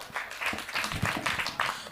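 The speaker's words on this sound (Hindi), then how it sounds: "इन तालियों को, अपने समर्थन को थोड़ा बढ़ाइएगा" Applause from an audience at a poetry recital, a moderate patter of individual claps with some crowd murmur, fairly close and uneven in rhythm.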